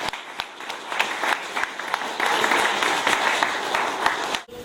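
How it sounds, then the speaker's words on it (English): Audience applause for a panel of alumni and seniors, a dense wash of clapping with scattered sharper claps, steady and fairly close, cutting off abruptly near the end. "Can we have another round of applause for our panelists and seniors?"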